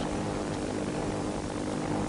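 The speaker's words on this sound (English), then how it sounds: "As the planes flew southward on their mission" Japanese warplanes fly south toward U.S. airfields in the Philippines, a steady, dense propeller-engine drone that holds an even loudness throughout with no voices.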